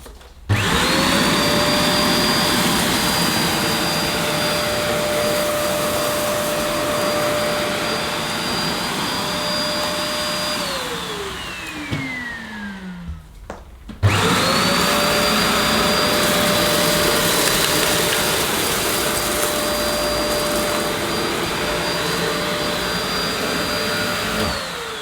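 A Vacmaster Captura Pet vacuum cleaner picking up rice and rolled oats from a light floor, running loud and steady with a high whine, winding down to a stop, then starting again and running on.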